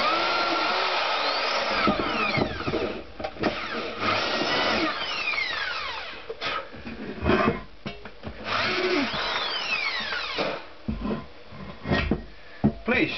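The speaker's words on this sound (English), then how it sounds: "don't grind it so long that you get one channel" A normal sanding disc on a power tool grinds corrosion and dirt from the water pump seal area of a Honda GL500 motorcycle, a steady loud whine in long passes broken by short pauses and a few clunks.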